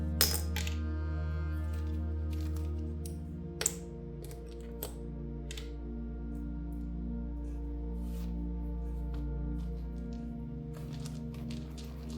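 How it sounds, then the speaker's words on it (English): Small charms and dice are tossed and scattered for a divination reading, giving a scatter of sharp light clicks and clatters, some closely spaced and some isolated, faint against a steady low hum. "Let's get more messages with the charms and dice."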